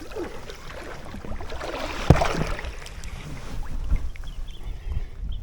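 Water sloshes and splashes around a kayak as a paddle strokes backwards through it, with a sharper splash midway and steady wind noise throughout.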